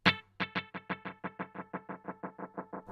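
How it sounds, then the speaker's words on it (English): Electric guitar through a Mad Professor Dual Blue Delay pedal in multi-head mode: a single plucked note is followed by a long run of about fifteen evenly spaced, cascading repeats that slowly fade, with nothing else heard. "you can hear those delays cascading upon each other"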